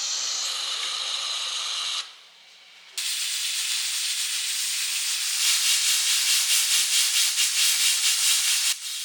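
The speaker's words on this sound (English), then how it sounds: "I'm steaming these for about 8 minutes with the lid on" Steady loud hissing of steam escaping from a lidded steamer cooking fish, briefly cutting out, then returning with a rapid pulsing rattle toward the end.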